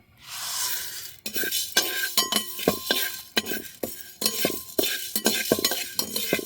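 Chana dal rattles and scrapes in a dry pan with no oil as a spoon stirs it in repeated strokes, with light clinks of metal.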